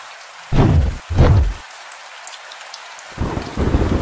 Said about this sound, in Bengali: এই বৃষ্টি মনে হচ্ছে না আর থামবে।